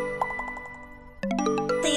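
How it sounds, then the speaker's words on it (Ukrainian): A quick run of bright notification dings, one after another, followed by a louder cluster of chimes rising in pitch. "як ти зможеш зосередитися, якщо постійно приходять сповіщення?"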